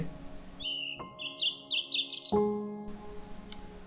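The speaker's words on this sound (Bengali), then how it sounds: "ছোট ছোট পাখির কিচিরমিচির শব্দে" Small birds chirp in a quick series of bright, high tweets, fairly close, over a faint hum and a couple of soft knocks.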